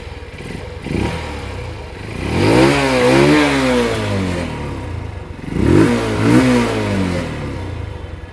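A 150cc motorcycle engine, a United US 150 or Honda CB 150F, blips its throttle in several loud close revs that rise and fall over a rough idle, with no talking.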